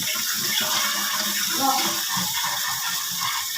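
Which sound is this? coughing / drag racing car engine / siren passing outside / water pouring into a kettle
water pouring into a kettle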